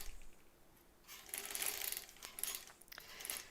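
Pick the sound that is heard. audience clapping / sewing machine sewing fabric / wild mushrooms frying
sewing machine sewing fabric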